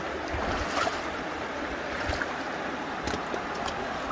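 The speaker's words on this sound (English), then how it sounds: "The water's still moving quite fast." Fast-moving stream water rushes in a steady broadband wash outdoors, continuous and fairly loud throughout, with slight gusts of wind on the microphone.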